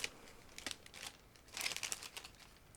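A plastic bag holding clear sprue parts from an ICM 1/35 model kit is opened, giving quiet close crinkling and crackling in irregular bursts with a few sharper snaps, no voices.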